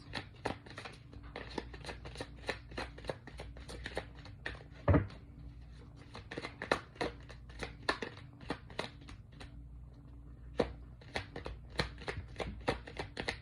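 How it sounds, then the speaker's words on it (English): Rapid riffling of a water-damaged tarot card deck, repeated crisp fluttering bursts through a steady low background hum, with one louder slap midway. "This deck is hard to shuffle because it has some water damage"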